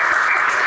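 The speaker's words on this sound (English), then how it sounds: "He must have asked you all to clap for that." Studio audience in a courtroom TV show claps together in a brief, dense burst of applause, loud and steady throughout.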